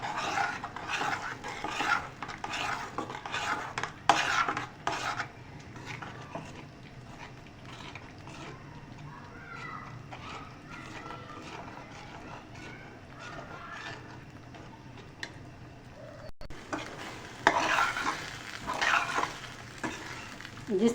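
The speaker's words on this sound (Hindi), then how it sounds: "अब हम इन दोनों चीज़ों को साथ अच्छे से मिक्स करके और बहुत अच्छी तरह इसकी अब हम भुनाई करेंगे।" Pearl millet mixed with gravy and roasted in a pan, with steady close sizzling and frying plus repeated scraping stirs and utensil clinks against the pot, louder at the start and end, with no talking.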